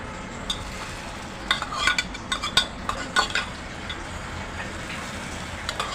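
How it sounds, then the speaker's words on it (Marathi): Hot ghee tempering with roasted cashews and almonds is poured into sabudana kheer, producing a soft sizzle under scattered clinks and stirring taps of a utensil against the pot. "आता मी ही तुपाची फोडणी घालत आहे"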